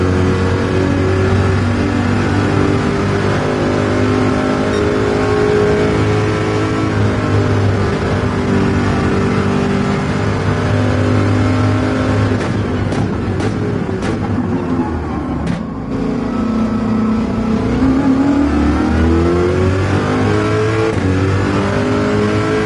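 A 5.5-liter American V8 race car in Gran Turismo 7, roaring loud and close through a long sustained run, its pitch rising and dropping with gear changes and a brief lift midway, no voices.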